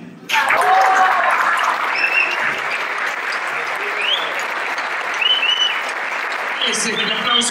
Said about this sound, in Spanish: Ese es el aplauso para nuestro Juan Carlos.